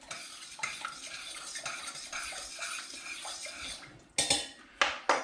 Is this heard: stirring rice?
yes